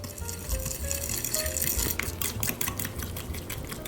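Melted butter and sugar stirred together in a bowl for pandesal dough, giving a continuous close scraping and swishing of utensil against bowl with faint clinks, steady for a few seconds.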